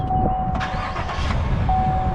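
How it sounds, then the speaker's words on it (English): A 2017 Chevrolet Tahoe SSV is started with its hood open, heard from outside the vehicle. A short cranking burst catches, and the engine settles into a steady, close idle. "start it back up. Get a little start sound from the outside."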